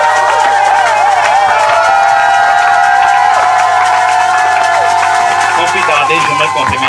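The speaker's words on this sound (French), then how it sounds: "Tu peux acclamer mieux." A church congregation cheering and acclaiming during a service, a loud steady wash of crowd voices with some clapping, under a sustained musical tone.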